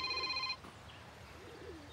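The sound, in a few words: telephone ringing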